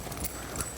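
A horse trots in an arena during a riding lesson, its hooves giving faint, brief clip-clops under a steady background wash.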